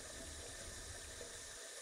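A running water tap in the Phasmophobia ghost-hunting video game, giving a steady hissing flow of water that plays on alone without a break for under two seconds.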